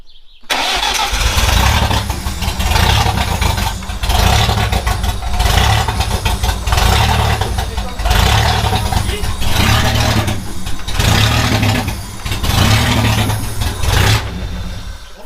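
A Peugeot 316 turbo engine catches after the computer fault is fixed, settling into a loud, steady idle with a rhythmic low throb and mild revving swells, close by and running without a break.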